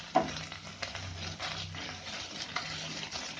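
Green chilli paste stirred as it fries in a fish butter masala, giving a steady low sizzle with soft scraping strokes of the spoon, close up and fairly quiet throughout.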